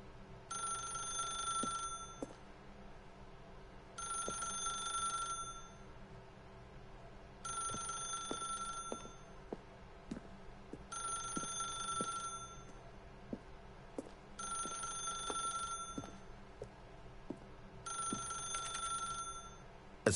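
A telephone rings in the video game The Stanley Parable, six evenly spaced bursts of bright electronic trilling separated by short pauses, steady and clear over a low ambient hum with no voices.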